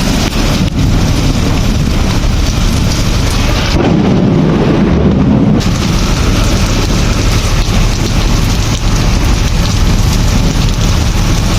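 Heavy rain pours down steadily during a village thunderstorm, a loud continuous wash with deep thunder rumbling through the middle, alone without voices.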